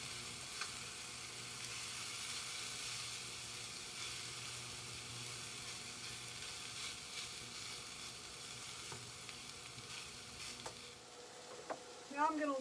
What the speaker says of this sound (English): I'm going to stir it around with the onions.